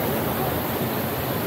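Powerful roar of rushing water at Hogenakkal falls during a coracle boat ride, a loud, dense, continuous broadband rush close by with no breaks.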